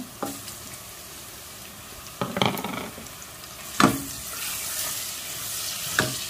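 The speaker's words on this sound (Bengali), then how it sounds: "রসুন লালে দিলাম পেঁয়াজ দিলাম এখন আমি পেঁয়াজ দিলাইব" Onion and garlic frying in a pan, a soft low sizzle broken by a few sharp scraping stirs of a utensil against the pan.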